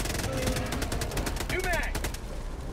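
Rapid automatic gunfire from Helldivers 2 rattles in a steady fast stream of close shots, with a brief whooshing effect partway through and a voice talking over it.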